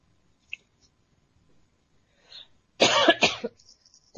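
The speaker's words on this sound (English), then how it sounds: "To clear my throat a bit." After a near-silent stretch with a few faint clicks, someone clears their throat close by, two quick rough bursts followed by a softer trailing rasp.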